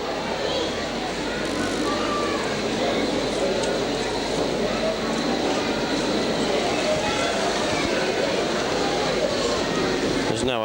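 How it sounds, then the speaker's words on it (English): A toy train is pushed along its track at a 1986 model exhibition, giving a continuous rolling, rattling rumble that persists throughout against a busy hall background, with voices talking over it. "Just push the train."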